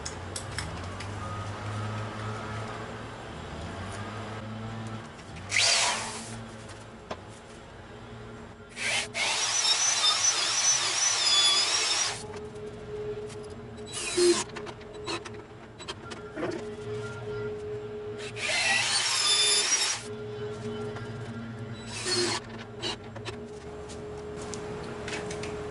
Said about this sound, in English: So I'm going to go ahead and drill this, and then we're going to drive the lag bolts in